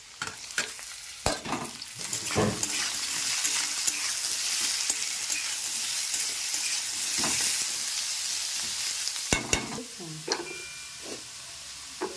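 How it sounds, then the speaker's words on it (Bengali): Onions frying in a pan until browned, a continuous close sizzle with intermittent stirring clatters and spatula knocks, no voice present. "আমার পেঁয়াজটা ব্রাউন করে ভাজা হয়ে গেছে"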